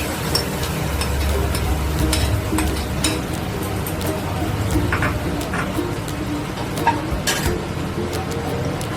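A blended spice paste goes into hot oil in a kadai while cooking kadhai paneer, giving a steady, close sizzle with occasional stirring clicks and scrapes, continuous throughout.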